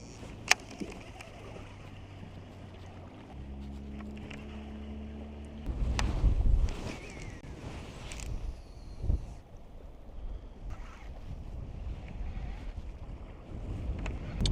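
Strong wind gusting across open water during kayak fishing, buffeting the microphone with rough rumbling bursts, along with some knocks and splashes from the kayak.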